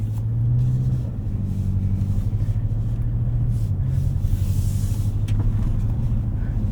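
A 2024 Toyota Tacoma TRD Pro driving on a road in two-wheel drive, heard from inside the cab as a steady low engine and road rumble with a slight shift in pitch partway through.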